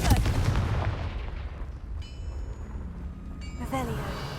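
A Confringo blasting spell in Hogwarts Legacy hitting damaged rocks: a heavy, rumbling explosion that decays over several seconds, followed by brief ringing magical tones and a second crackling burst near the end.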